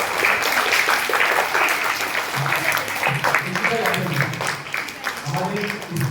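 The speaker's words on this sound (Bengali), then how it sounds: "সবাই টিচারদের জন্য আমার হাততালি করি।" A school audience claps for its teachers in a sustained burst of dense applause that carries on for several seconds, with voices talking over the clapping partway through.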